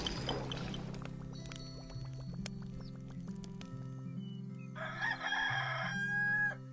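Game chicken crowing in the action roguelike AK-Xolotl, a bright cartoonish cock-a-doodle-doo near the end over steady looping game music, close and moderately loud.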